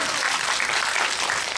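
An audience at a Megabox cinema screening Q&A for the film Hunt applauds, a dense, even wash of clapping from a packed room that holds steady throughout.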